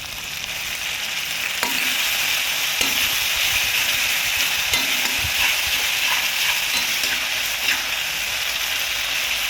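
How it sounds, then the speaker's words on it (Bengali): Tomato paste sizzles and fries with ginger and garlic in a pan for a potol kosha dish, with occasional stirring scrapes and clicks over a steady, loud hiss. "এর মধ্যে টমেটো বাটাটা ঢেলে দিলাম।"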